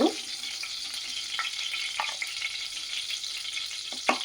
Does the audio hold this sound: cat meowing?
no